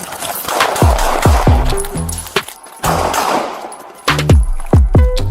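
Gunfire erupts during a police chase as a burst of loud, sharp close shots in quick clusters, ringing and echoing between volleys, with no talk audible.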